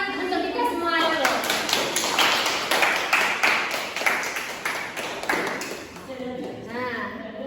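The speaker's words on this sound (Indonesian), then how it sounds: "Tepuk tangan untuk kita semua dulu." Classroom applause at the close of a micro-teaching lesson, a burst of many hands clapping fairly close with children's voices mixed in, tapering off near the end.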